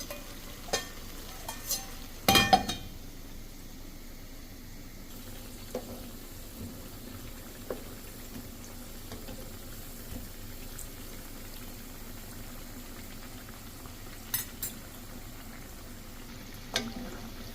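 Low, steady bubbling of tomatoes simmering in a covered pan, broken by a few faint clicks and taps.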